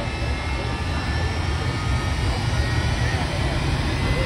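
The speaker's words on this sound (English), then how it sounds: "Now the jet engine is starting to get the turbine wound it up" The jet engine of the Bone Shaker jet truck spools up at a motorsports speedway. A loud, steady, broadband turbine roar fills the whole stretch without pause.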